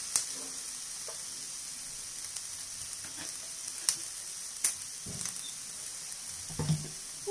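Onion frying in a pan with barbecue sauce, a steady soft sizzle with faint clinks and scrapes of stirring, close and fairly quiet.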